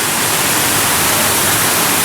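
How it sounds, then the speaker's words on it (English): A waterfall at the Gilroy Gardens theme park gives off a loud, continuous rushing roar of falling water, steady and close with no voices. "And now even more waterfall."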